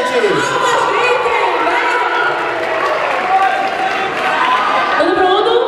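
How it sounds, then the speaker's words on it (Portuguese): Audience at a dance contest in Recife claps and cheers steadily, a dense continuous wash of applause with whoops throughout, near and loud with no clear pauses. "Palmas, gente! Palmas,"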